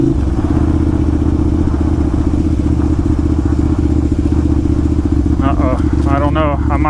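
A big motorcycle ridden off-road on a Blackwater trail holds a loud, steady engine drone close to the microphone, with a rider's voice breaking in toward the end.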